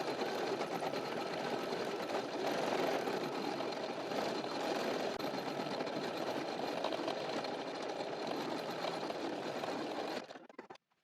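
An embroidery sewing machine stitching a single layer of vinyl for shoe wings, a loud, steady, fast mechanical whirr running continuously for about ten seconds before stopping abruptly, no voices.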